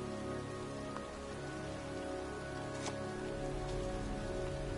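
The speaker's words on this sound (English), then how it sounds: "standing in a cemetery in pouring rain" Heavy pouring rain falling in a cemetery in the video game Heavy Rain, a dense continuous hiss with a few faint distinct drips, steady and close, without voices.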